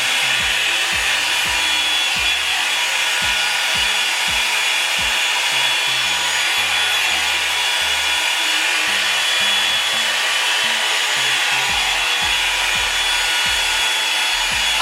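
A handheld hair dryer blows steadily on hair during an at-home salon-style blowout, a loud continuous roar with faint rubbing and brushing underneath, close to the microphone and free of talk.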